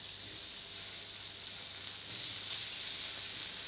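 Chicken sears in a dry, hot pan, giving a continuous soft sizzle and hiss at low level with no talking.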